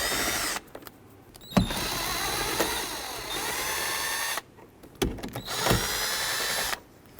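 A power drill whirs in short bursts as it backs out 5.5 mm screws from the door trim of a 1998-2011 Ford Ranger, with brief pauses and a few clicks between runs.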